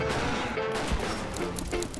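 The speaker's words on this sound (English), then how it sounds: "The Vertibird provided gunfire support from the sky." Sustained airborne gunfire support from a Vertibird in Fallout 4: a dense, continuous rattle of rapid shots with sharper bursts scattered throughout, fairly loud and steady across the whole stretch.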